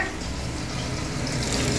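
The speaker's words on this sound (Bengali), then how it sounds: "মাছ ভাজা হচ্ছে বাবার জন্য" Pabda fish fry in a pan with a steady, close, hissing sizzle that holds even throughout and swells slightly at the end. No one talks.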